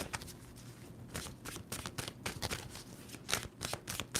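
Tarot cards are shuffled in quick bursts of riffling and sliding, a run of crisp papery flutters that come and go close by with no one talking.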